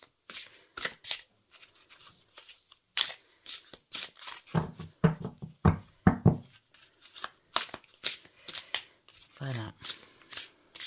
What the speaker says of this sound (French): Ça fait bizarre de brasser un jeu avec un support